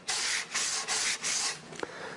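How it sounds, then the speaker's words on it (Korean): Sandpaper rubbed along the grain of a wooden furniture piece, four steady back-and-forth strokes of dry, hissy scraping, close and alone, ending with a few light taps. "나무 결을 따라서 사포질 하셔야 되고요"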